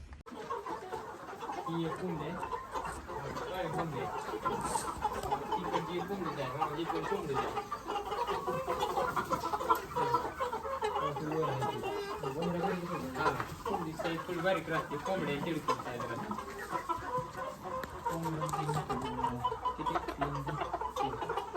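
Many chickens cluck continuously in a noisy crowded setting at a village fair in Maharashtra, while people talk nearby.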